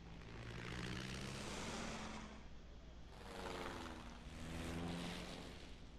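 Propeller fighter planes drone in Sid Meier's Ace Patrol: Pacific Skies, a continuous engine roar that swells and fades in waves as the aircraft pass, with no talk.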